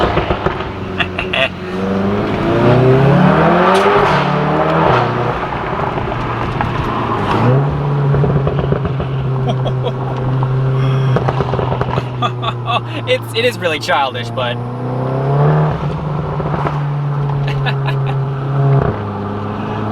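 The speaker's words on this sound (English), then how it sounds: "it does do the pops and bangs in sport mode" A Volkswagen Golf R with APR parts in sport mode, its engine revving and dropping through gears as the exhaust crackles with sharp pops and bangs. It is heard close and loud while someone talks over it.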